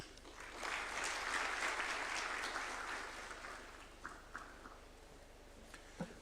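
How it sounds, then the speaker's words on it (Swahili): Applause for the Harambee Starlets women's football team at a State House reception: a broad wash of crowd clapping swells in the first three seconds, then thins and fades, with a few isolated claps and knocks near the end. "Tumpongeze tena kwa makofi."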